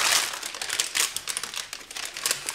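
Baking paper is carefully peeled and unwrapped from a chilled homemade vegan Snickers filling, giving a close series of crisp crinkles and rustles that rise and fall in short irregular bursts.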